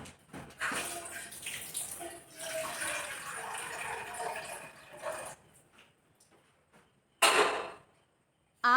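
Water poured into a pot for tea, a steady rushing splash for several seconds, then fading to quiet, with a brief renewed gush near the end; close and fairly loud, no voices.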